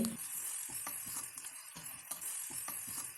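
Sliced onions and small onions sauté in a pan on the stove for a Kerala-style crab roast. A steady soft sizzle runs throughout, broken by regular scraping stirs of a spoon, fairly quiet and with no talking.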